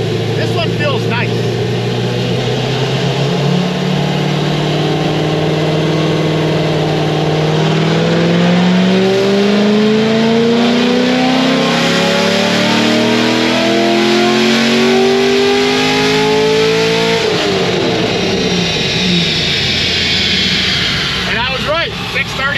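A cammed LS3 engine in a Corvette Grand Sport revs hard through a dyno pull, its loud rising tone sweeping upward for many seconds before cutting back to idle, with a voice talking over it.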